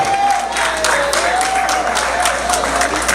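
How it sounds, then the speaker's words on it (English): Crowd applause at a Haitian heritage awards ceremony as an honoree comes forward, steady loud clapping with a faint sustained tone running underneath. "And give her a round of applause."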